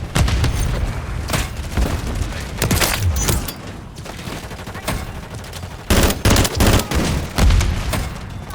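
Video game firefight with dense, continuous rifle and machine-gun bursts, booming impacts and a grenade blast, loud and close throughout, with fast overlapping shots and brief lulls between volleys.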